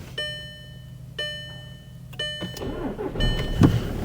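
2012 Volkswagen Passat TDI diesel in a home garage, with a series of chimes at first, then the starter cranking and the engine catching and settling into a low idle nearby.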